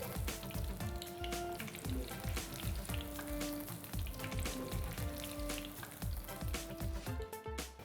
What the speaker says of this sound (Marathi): एका साईडने ते व्यवस्थित तळले गेलेत आपण ते आता थोडेसे उलटे करूया